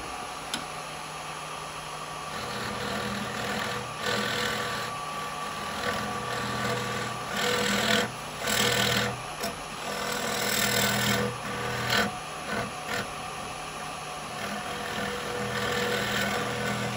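A carbide chisel turning wet wood on a lathe: a steady motor hum with intermittent rough scraping bursts as the tool bites the fibrous wood, close and moderately loud, with no talk.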